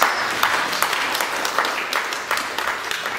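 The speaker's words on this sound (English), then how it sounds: "Clap for Jesus." Worshippers at a church service clap together, a moderately loud patter of many hands with a loose, rhythmic pulse running through the short stretch.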